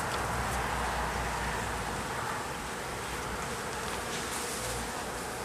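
A mass of bees hums loudly and continuously while being hived from a box, a close, thick droning buzz with slight swells and no voices.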